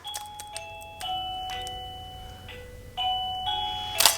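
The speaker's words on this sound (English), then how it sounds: "So when I ring my doorbell" An electronic doorbell chimes a run of clear ding-dong tones, some notes overlapping and ringing out, in a quiet classroom with no talking.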